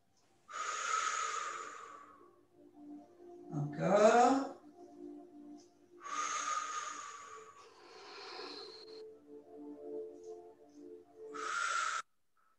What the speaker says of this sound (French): on inspire, on souffle